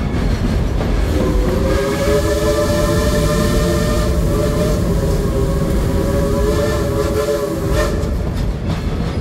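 A steam locomotive, Dollywood's Engine 70, rumbles along loudly and continuously, with a steady mechanical chugging and a sustained whistle-like tone riding over the din.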